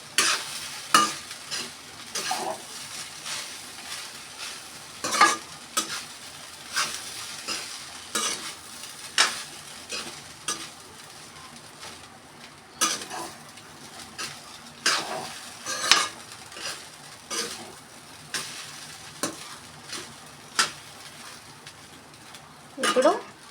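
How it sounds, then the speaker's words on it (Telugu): Egg fried rice being stirred and tossed in a hot pan, repeated metallic scrapes and knocks of a spoon against the pan over a faint sizzle, irregular and close, with no one talking. "ఇప్పుడు మొత్తం అంతా మిక్స్ చేసుకోవాలి, చక్కగా కలిసేలాగా కలుపుకుందాం."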